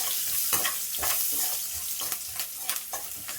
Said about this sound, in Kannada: ಸ್ವಲ್ಪ ಚೆನ್ನಾಗಿ ಫ್ರೈ ಆಗಲಿ. ಆ ಬೆಳ್ಳುಳ್ಳಿ ಸ್ಮೆಲ್ ಘಮ ಬರಬೇಕು ಗೈಸ್